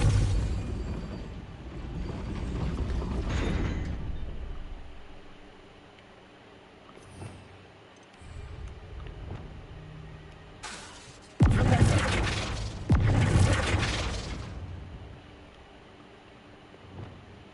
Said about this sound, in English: That looks as if it might raise the gate.